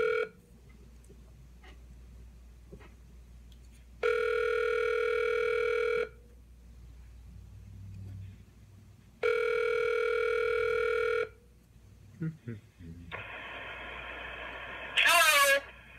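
An outgoing phone call rings twice with long electronic ring tones spaced by silence, over a low background hum, followed by brief clicks and a burst of line noise as the call connects.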